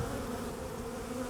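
Honey bees hum around an open hive frame being split, a low, steady drone of many wings filling the background without pause.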